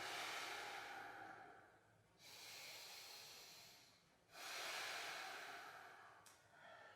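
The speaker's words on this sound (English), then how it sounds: "breathe a lot into belly, into heart center. This is a full abdominal thoracic breath" Full abdominal and thoracic breaths during a yoga backbend practice, three long airy breaths, one rising straight into the next, close and steady, with no talk.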